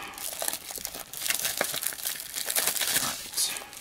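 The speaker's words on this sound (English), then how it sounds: "quick unwrap" Plastic shrink wrap crinkles and tears off a tarot card deck, a close, busy run of crackling and rustling that rises and falls for a few seconds with no talking.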